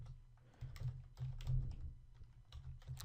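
Fingers type code on a computer keyboard, giving quiet, irregular bursts of clicking keystrokes over a low background hum, with no voices.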